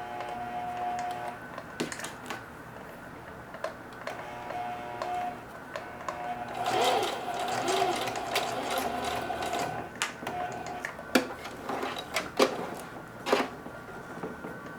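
A sewing machine stitching denim runs in short bursts with mechanical ticks and clicks, stopping and starting, close up.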